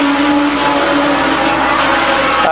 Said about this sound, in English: A 3-car battle down the backstretch.